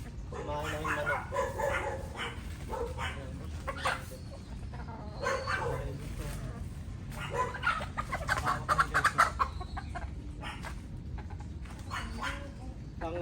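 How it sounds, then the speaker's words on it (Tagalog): Rhode Island Red hens cluck and squawk in a busy, close mix, with a dog barking intermittently and other animal noises around them. "Ang lahi ng manok ito ay Rhode Island."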